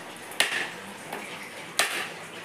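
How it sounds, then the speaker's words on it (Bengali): A coconut is cracked open in a home kitchen during kakra pitha preparation. Two sharp, hard knocks land about a second and a half apart, close and clear over a quiet background. "নারকেলটা ফাটাই নিয়েছি"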